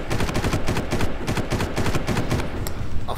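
Enemy gunfire in the video game Far Cry, rapid bursts of automatic shots crackling close and loud in a quick, uneven rhythm across a few seconds.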